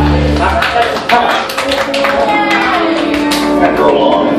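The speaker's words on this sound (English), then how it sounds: "Please, clap." An audience claps for a drag performer on stage, with scattered bursts of hand claps mixed under a speaking voice throughout.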